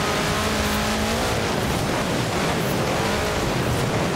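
Engine and road noise from a car driving in the racing game Forza Horizon 4, a steady loud roar with a rising engine tone early on, heard alone.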